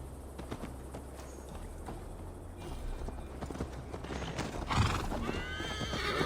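Horse in Assassin's Creed Valhalla clopping along with steady hoofbeats, then letting out a loud whinny near the end over a low game ambience.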